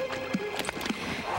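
Horse hooves clop in an animated cartoon with a marshy setting, a few quick, fairly close hoof knocks over a steady background, without a clear whinny.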